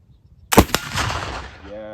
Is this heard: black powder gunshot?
yes